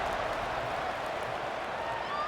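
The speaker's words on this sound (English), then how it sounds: "this crowd is buzzing after that last score" Stadium crowd buzzing in the College Football 26 video game during an SMU vs Tulsa matchup, a steady dense roar of many voices that holds evenly and fairly loud throughout, with a faint brief whistle-like tone rising near the end.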